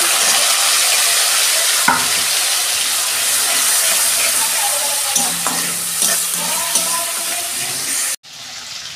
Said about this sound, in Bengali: আদা, জিরে আর শুকনো লঙ্কা বেটে রেখেছিলাম দিয়ে দিচ্ছি